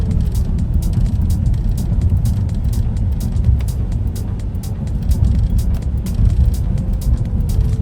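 A car moves at about 45 km/h along a driving exam route in Khmelnytskyi, with a steady, loud, close engine and road rumble from inside the cabin that continues without a break.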